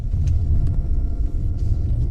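A Mercedes C 200 drives over a series of small bumps, heard from inside as a steady, close low rumble with soft, irregular thumps running underneath.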